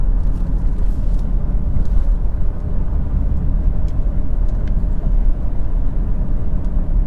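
A car cruises at 40 miles per hour in third gear, its steady low engine and road rumble filling the cabin loudly and continuously with no other sounds over it.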